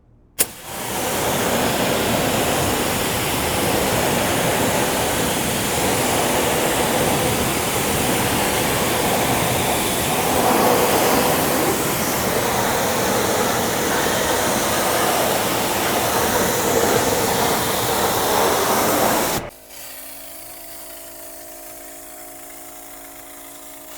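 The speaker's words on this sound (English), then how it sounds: "I'm going to rinse off the wheels, tires, and fender wells just to get rid of the loosened dirt." Steady, loud spray of a pressure washer or hose rinsing loosened dirt off car wheels, tires and fender wells, running continuously for about nineteen seconds before cutting off abruptly, leaving a quieter background hum.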